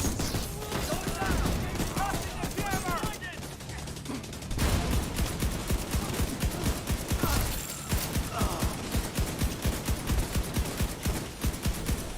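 Sustained gunfire from automatic weapons in The Division 2, rapid repeated shots in dense bursts that run nearly nonstop, with a brief pause and mechanical clicks partway through.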